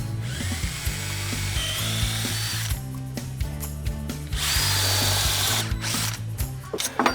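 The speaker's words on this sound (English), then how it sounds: "Okay, time to countersink them all." A power drill whirs in repeated bursts as it countersinks timber bolt holes in a wooden table leg, rising and falling with short pauses between passes, close and fairly loud.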